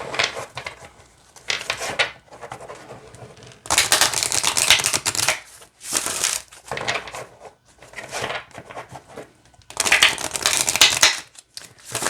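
A deck of oracle cards being shuffled by hand, giving bursts of crisp riffling and flapping card noise in several rounds with short pauses between them, close and fairly loud, with no voices.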